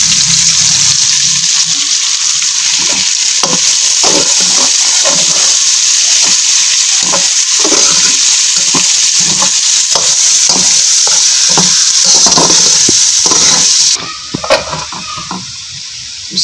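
Chopped cabbage fries loudly in a pan with a steady sizzle and repeated stirring scrapes, then the sizzle drops away sharply near the end, leaving a few clinks.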